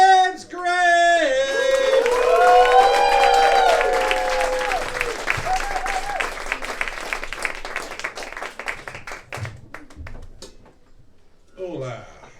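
A comedy club crowd at a Milwaukee showcase applauds and cheers as a comedian is brought on. Loud vocal whoops come first over broad clapping, which fades after about ten seconds, and then a voice starts.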